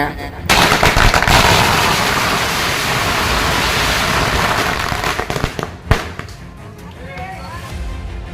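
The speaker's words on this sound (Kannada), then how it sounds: "ಪಟಾಕಿ ಸಿಡಿಸಿ ಸಂಭ್ರಮಾಚರಣೆ" A dense, loud crackling barrage of firecrackers bursts continuously for several seconds at an election victory celebration by party workers in Hukkeri, then fades into scattered pops and a few sharp bangs.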